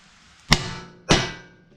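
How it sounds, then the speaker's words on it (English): A 2-pound sledgehammer strikes a car's steering tie rod joint on a 1994–2001 Acura Integra, two sharp metallic blows about half a second apart with brief ringing decay. "We'll take a 2-pound sledgehammer, and we're going to hit right here."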